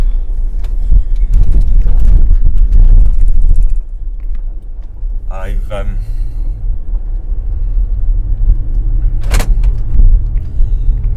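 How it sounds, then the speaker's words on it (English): A Range Rover L322 engine turns over with a key and catches, then settles into a low rumbling idle, with brief clicks and a whirring motor sound nearby. "turn the key, away she goes."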